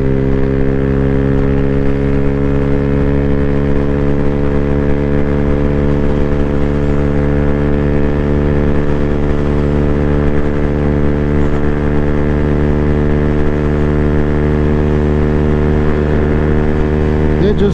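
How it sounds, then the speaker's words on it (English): A 2024 Freedom Fighter 200 EFI motorcycle labors up an incline in fifth gear under a heavy rider, its engine a steady, loud, close droning hum with strong stable harmonics, alone throughout. "So you can hear the motor drop down as we hit this incline"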